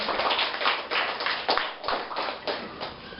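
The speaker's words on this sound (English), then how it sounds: "Let's give them a round of applause, please." Clapping from a classroom audience at a school debate fills the moment, a dense patter of hand claps with short swells, close and fairly loud with no talking over it.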